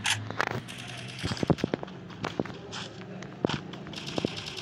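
Gunfire in the Free Fire shooting game, with scattered sharp cracks and pops in short clusters at mid distance over a busy game background, no speech.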